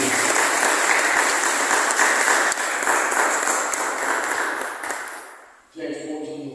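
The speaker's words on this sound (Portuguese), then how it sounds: "Uma salva de palmas" Sustained audience applause at a parish carnival retreat, dense and loud for about five seconds before fading out, followed by a short stretch of background sound.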